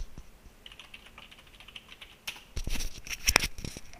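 Typing on a computer keyboard, starting faint and scattered under room noise, then growing into a louder, denser burst of clicking keystrokes toward the end.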